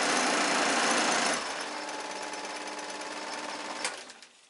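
Switzer 16-inch 125W scroll saw running at top speed on a toolbox, a loud, dense mechanical buzz with rattling vibration that eases slightly after the first second and then winds down near the end.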